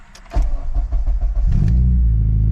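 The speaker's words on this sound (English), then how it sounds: "So I'm going to go ahead and start this car up." A Honda Civic Si engine in neutral cranks briefly, then catches and settles into a steady, loud idle close by.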